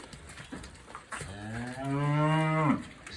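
Heifers being weighed moo loudly and close by, one long drawn-out low moo rising and holding for about two seconds after some brief shuffling noise.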